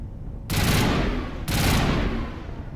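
Gunfire from the video game Mass Effect Legendary Edition comes in two sustained loud bursts, each a dense rush of rapid shots over about a second, with a steady noisy background between.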